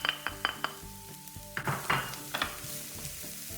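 Onions going into a warming pan, with bright clinks and scrapes of a utensil against the pan over a low sizzle, the sharp knocks arriving in irregular bursts.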